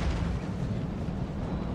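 Artillery fire in the strategy game Empire: Total War, a dense rumbling barrage of low booms and bursts blending into a continuous distant roar, moderately quiet, with no voices.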